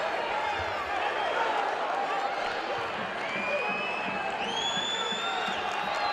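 Rutgers home crowd at a college wrestling match roaring and cheering as the fans rise, a sustained loud wash of voices with whistles and shouts over continuous applause.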